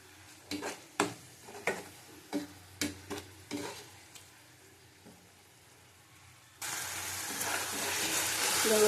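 Taro being sautéed with panch phoron and salt in a pan, a run of rhythmic spoon scrapes and stirring knocks, then a louder, steady sizzle taking over near the end.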